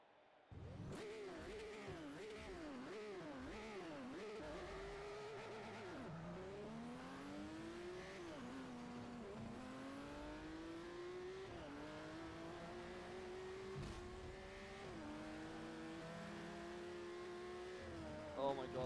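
A car engine in the Forza Motorsport 4 racing game revs and climbs through repeated upshifts, with tones rising then dropping at each gear change, loud and continuous for the whole stretch.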